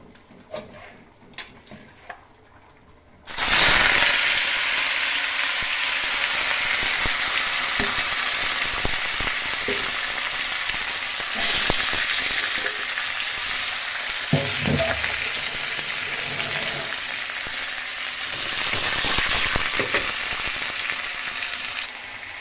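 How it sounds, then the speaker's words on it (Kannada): Chicken pieces drop into hot oil for chicken sukka, and a loud, steady, close sizzle bursts in after a few quiet clicks and holds throughout, with occasional faint scraping of a utensil. "ಸೊ ಎಣ್ಣೆ ಕಾದಿದೆ. ಇವಾಗ ಚಿಕನನ್ನು ಇದಕ್ಕೆ ಹಾಕೋಣ."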